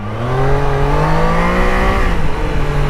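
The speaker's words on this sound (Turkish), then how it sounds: "Şimdi bakın gazı açacağım." A Triumph Daytona 660 three-cylinder motorcycle engine revving loudly up close, a sustained rising and falling whine with a dip and recovery midway.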